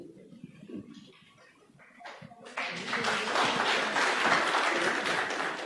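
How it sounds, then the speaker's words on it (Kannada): Audience applause at a film press meet for the Kannada movie Max starring Kichcha Sudeep, starting faint and scattered, then swelling into loud, sustained clapping from a large crowd that fills the room. "ಮತ್ತೊಮ್ಮೆ ಜೋರಾದ ಚಪ್ಪಾಳೆ ಬರಲಿ ನಮ್ಮ ನಿರ್ಮಾಪಕರಿಗೆ"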